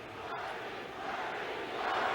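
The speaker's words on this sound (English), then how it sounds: "They're now shouting, "Bernie, Bernie," obviously in support of Bernie Sanders." A large arena crowd of Bernie Sanders supporters and protesters shouts and chants together, a dense, steady roar that swells slightly toward the end.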